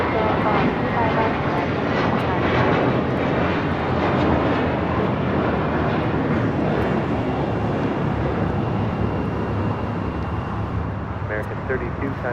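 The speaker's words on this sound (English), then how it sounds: "This is American Airlines Flight 32 taking off to JFK on an A321" An American Airlines Airbus A321 jet takes off at LAX, a loud, sustained broadband engine roar close by for the whole stretch, with a voice speaking over it.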